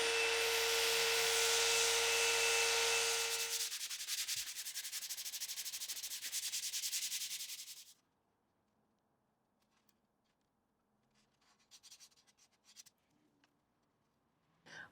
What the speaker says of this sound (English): I'll sand the blade a bit smoother